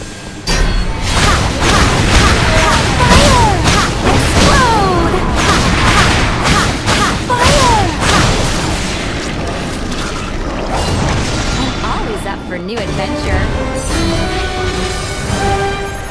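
Explosions and booming impacts in the video game Shadowblood, loud and continuous, with crashing bursts, whooshes and mechanical clatter layered together and occasional game voice effects mixed in.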